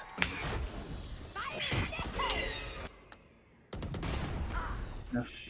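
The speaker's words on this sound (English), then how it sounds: "Gunned down by all of the util and the bullets." Rainbow Six Siege gameplay: rapid bursts of gunfire and explosive thuds come in clusters, broken by a brief near-silent gap, while commentators talk excitedly over the action.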